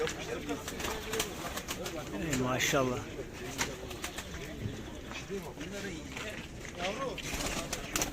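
Pigeons coo repeatedly amid a busy crowd at the Edirnekapı bird market, with people talking and calling out over the birds' soft, steady murmuring.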